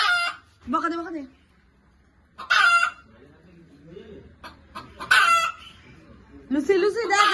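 A hen cackles loudly in repeated harsh bursts after laying an egg, the outbursts separated by short quieter gaps, close by, with softer low clucks between them.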